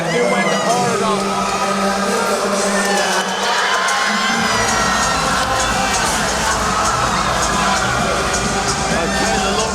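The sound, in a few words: fans cheering wildly in the crowd at a Cage Warriors fight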